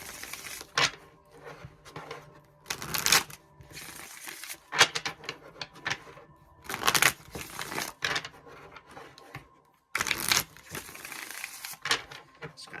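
Tarot cards are shuffled in repeated bursts of riffling and slapping, loud and close, separated by short quiet pauses.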